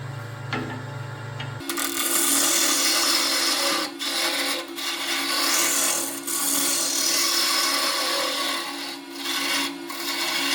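A woodturning scraper cuts a spinning piece of wood on a lathe, giving a loud continuous rasping scrape over the motor hum, with brief dips as the tool lifts and re-engages; a short lower machine tone precedes it.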